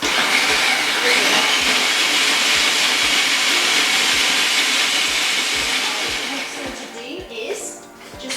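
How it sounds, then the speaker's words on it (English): A food processor grinds stale bread into crumbs, a loud steady whirring drone with a rhythmic low thumping, which winds down and stops near the end as a person speaks over it. "the stale bread in the food processor"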